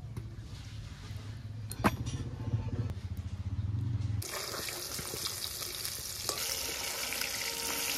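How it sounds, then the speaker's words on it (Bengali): Fish hits hot oil in a wok: after a few seconds of low humming background with a sharp clink, a loud, dense sizzle bursts in and keeps crackling steadily to the end. "তেলও গরম হয়ে গেছে, এবার মাছগুলো একে একে ভাজবো"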